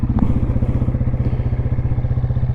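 A 1996 Yamaha Wolverine 350 4x4 ATV engine idles steadily up close, a low, even chugging pulse that keeps a regular rhythm throughout.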